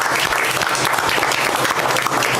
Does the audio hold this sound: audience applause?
yes